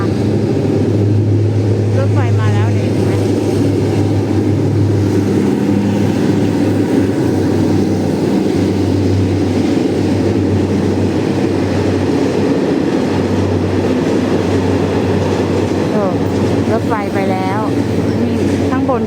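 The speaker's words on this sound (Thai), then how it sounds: "รถไฟมา" A train rumbles past a lineside spot along the railway at Taling Chan, a heavy continuous roar close by with brief high squeals, while people talk over it.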